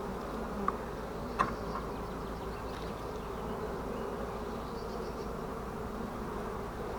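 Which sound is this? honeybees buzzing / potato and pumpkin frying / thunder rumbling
honeybees buzzing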